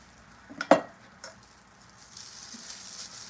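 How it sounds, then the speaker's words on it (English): Soap batter is stirred in a container with a spoon or utensil, giving a couple of sharp clinks and scrapes early on, then a quieter, continuous swishing hiss, with no voices. "So we just stirring our batter a little bit before we put the stick blender in there."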